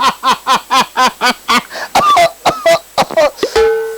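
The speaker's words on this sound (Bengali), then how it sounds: "কাশিটা বড্ড বাড়িছে।" A man coughing on stage during a comedy skit, a rapid run of about nine loud, close hacking coughs in a steady rhythm, then throat-clearing sounds and strained vocal noises at the end.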